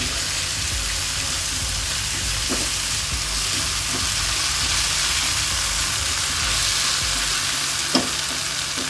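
Kashmiri chili powder fries in hot oil in a pan and is stirred through, giving a steady close sizzle with soft scraping and one brief clink near the end.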